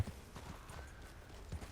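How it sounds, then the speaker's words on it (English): Horse hooves clip-clopping as a horse is ridden around in circles in the Red Dead Online video game, a quiet, steady run of hoof beats with no talking. "Just me running around in circles on a horse"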